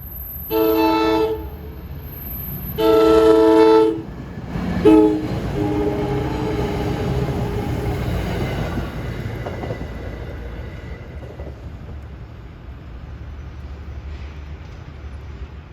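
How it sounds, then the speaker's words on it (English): Princeton Dinky shuttle train on a busy single-track line sounds two long harmonic horn blasts and a short toot, then rumbles in steadily on the rails, fairly close. "here comes the Dinky arriving back from Princeton Junction"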